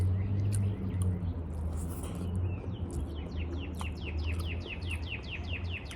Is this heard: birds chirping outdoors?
yes